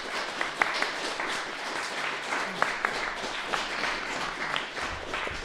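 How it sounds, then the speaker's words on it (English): Soft, fairly distant applause from a small audience after a panel at PROVE Gallery in Duluth, Minnesota, a low continuous patter of clapping with a few sharper individual claps. "So round of applause for everybody again."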